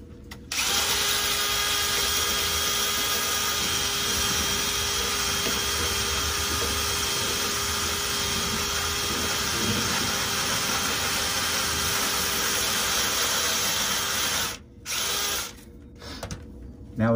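A dryer vent cleaning tool whirs continuously at a steady high speed inside a short 7 to 9 foot dryer vent, loud and close, then cuts out briefly in short bursts near the end.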